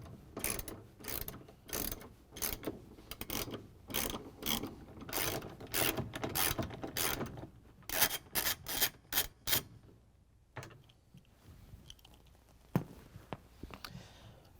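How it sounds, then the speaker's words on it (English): Ratchet on an extension with a 3/8 inch socket turning out the bolts that hold the drain pump on a GE washing machine: bursts of rapid clicking in quick repeated strokes, close, then sparse handling noises. "We're going to use the ratchet with the extension in a 3/8 inch socket again and take out the bolts to hold the pump on."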